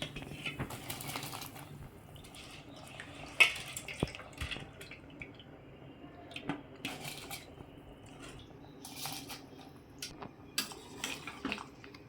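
Scattered clinks and light clatter of rice and lentils tipping into a metal pot, with occasional sharp taps over a soft bubbling background.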